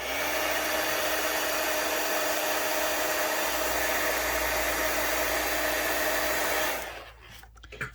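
A hair dryer blowing on paper junk-journal ephemera, a loud steady whooshing roar close by that runs for about seven seconds and then cuts off, followed by a few faint handling sounds.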